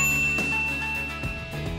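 A single bright notification bell ding rings out at the start and its metallic tone sustains and slowly fades, clear and alone.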